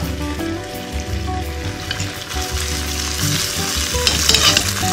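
Tofu fries loudly in a shallow layer of hot oil, a constant crackling hiss with occasional scraping and stirring, growing a bit brighter toward the end; no one speaks.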